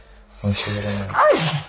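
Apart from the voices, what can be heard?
sneeze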